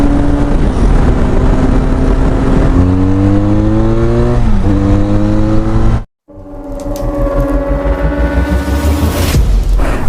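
A Benelli Leoncino 500 motorcycle fitted with a changed exhaust revs loudly and close by, its engine note climbing and falling through several throttle blips, with a short cut-out before the revving resumes.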